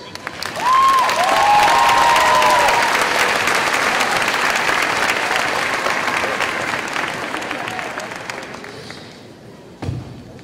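A commencement audience applauds an honoree from a mathematics and sciences department: a loud, sustained wave of clapping from a large crowd that gradually fades, ending with a single sharp thump near the close.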